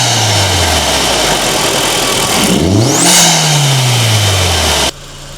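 A car engine revs hard, recorded right beside its air filter, giving a loud roaring intake rush that swells, dips and climbs again before cutting off abruptly near the end.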